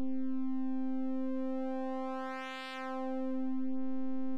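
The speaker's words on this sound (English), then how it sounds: "It's almost like a sine wave, but it's only the first half of it." A synthesizer sustains a phase distortion tone shaped like a half sine wave, a steady buzzy pitched drone with a brief swept, noisy shift in timbre midway, with no voice.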